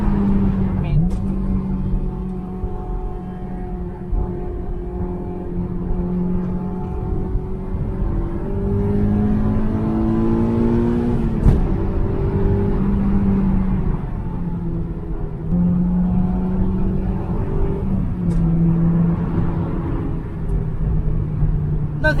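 A track-prepared AP1 Honda S2000 on a road, its engine revving up and dropping back as the driver shifts gears several times; the engine note is moderately loud and stays steady underneath.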